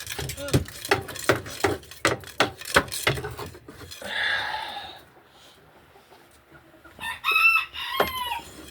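Chickens cluck in a sharp, close run of repeated calls, then a rooster crows loudly, followed by a quiet pause and another burst of crowing and clucking, outdoors around a flock.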